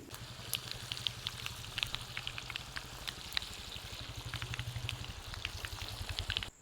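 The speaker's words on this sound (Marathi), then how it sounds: "सगळ्या वाड्या अशाच तळून घेऊ" Coriander vadis fry in oil over a low flame, giving a steady, soft sizzle with scattered crackles and pops that continue throughout, with no talking.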